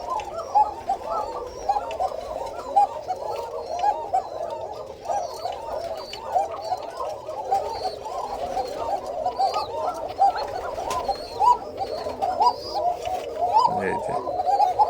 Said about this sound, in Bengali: এই সেই ডাক তো এটা হচ্ছে সাদা কোকা কবুতর